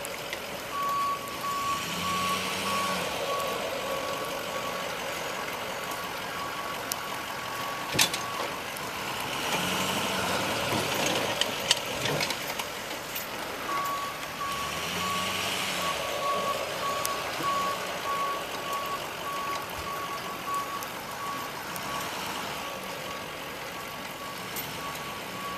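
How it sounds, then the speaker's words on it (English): A snow plow truck with tire chains passing during a storm, a rumbling engine with repeated reversing beeps and a steady jangling rattle, moderately distant. "You really hear the chain there"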